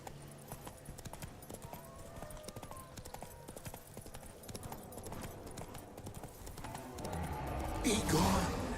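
Roach, the horse in The Witcher video game, trots along with a steady, fairly faint clip-clop of hooves that grows louder near the end while a voice talks over it.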